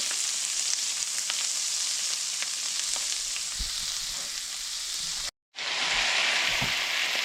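Chanterelle mushrooms, their liquid reduced, sizzle and fry steadily in a pan with butter, a dense continuous crackle that cuts out for a moment and then resumes.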